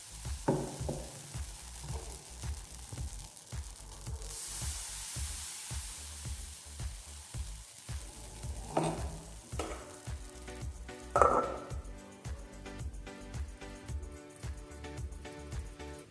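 Thick rice batter rotti cooks on a hot griddle with no oil, giving a soft steady sizzle over a run of light, rhythmic taps and scrapes, with a couple of sharper clinks near the end.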